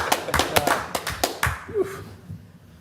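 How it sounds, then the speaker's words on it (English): A handful of people at a Yardley Borough Council work session clapping after a motion passes 5-0, a short burst of sharp, close claps that thins out and stops within about two seconds, followed by a faint voice in the room. "Let's have a round of applause for that"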